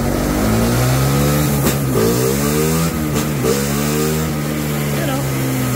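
A Suzuki Raider FI motorcycle with a remapped stock ECU revs on a dyno, its engine climbing and dropping in pitch through repeated pulls, close and loud, while people talk over it.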